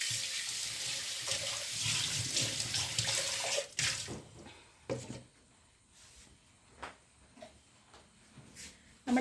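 A tap runs into a sink while fish curry is being cooked, a strong steady gush for nearly four seconds that cuts off, followed by scattered drips, knocks and handling sounds.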